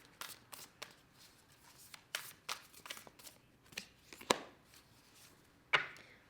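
Oracle cards being shuffled during a tarot reading: a run of crisp, irregular riffles, slaps and snaps, with a few sharper cracks near the end, close and fairly quiet with no talking.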